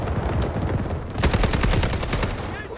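SMG-45 submachine gun fire in the game Delta Force, a fast rattling burst of rapid shots in the second half after scattered earlier pops, loud and close.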